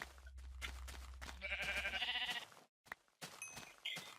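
A couple of bleating sheep calls in Minecraft over a busy game soundscape, with clicks, knocks and a low hum, ending in another short bleat.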